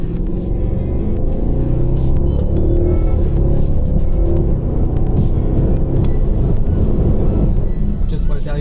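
Cabin drone of a BMW X6 50i M Sport SUV on a test drive along the Hakone Turnpike in Japan: a steady, loud, low engine and road rumble that holds evenly from start to finish.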